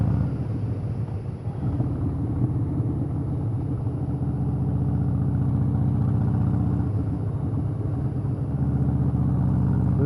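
A motorcycle engine runs steadily as the bike is ridden up a narrowing road named Hiland, a continuous low rumble close by with only slight swells in throttle and no talk.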